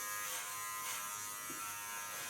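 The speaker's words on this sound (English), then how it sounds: "Put my clipper in the sharpest position." Electric hair clipper buzzing steadily and close by, a continuous motor drone that holds unbroken for the whole moment with no talk.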